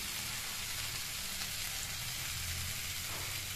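Pumpkin curry frying in a pan as hot water goes in, a loud continuous hiss and sizzle filling the scene, with a slight change in the bubbling texture near the end.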